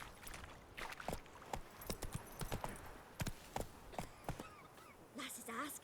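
Roach the horse's hooves clip-clopping in rapid uneven beats in The Witcher 3, mixed with game sound and voices talking over them.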